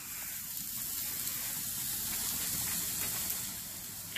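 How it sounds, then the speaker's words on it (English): Burgers sizzling on an outdoor grill during a snowstorm, a steady soft hiss with faint crackle, close and alone without talk. "Burgers are on and it is snowing."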